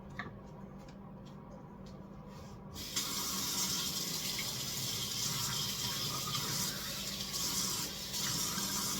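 Water poured into a bowl of Duncan Hines brownie mix, a steady splashing fill that starts abruptly a few seconds in and runs on evenly to the end, close and moderately loud.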